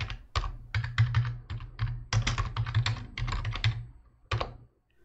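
Someone types a password on a computer keyboard while setting up remote access during hardware and software setup. A steady run of close, crisp keystrokes clatters for about five seconds in irregular bursts, with no talking.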